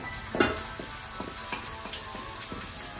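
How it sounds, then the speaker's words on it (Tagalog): Garlic, onion and ginger sauté in a pan, a soft steady sizzle with a few light rhythmic taps of stirring, fairly quiet and close. "Habang ginigisa na po natin ang bawang sibuyas luya"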